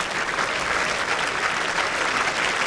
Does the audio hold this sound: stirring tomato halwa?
no